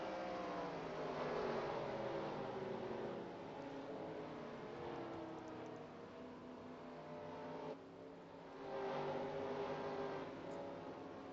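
Dirt-track stock cars race at Bristol in a racing video game, their engines giving a steady, droning roar that briefly drops and then swells again; no voices.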